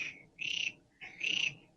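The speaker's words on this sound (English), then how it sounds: "I think you can hear the frogs on our pond. It's breeding season." Frogs croak from a garden pond in breeding season: two loud, rapid trilling calls, each about a third of a second long and a second apart, close by with no voices.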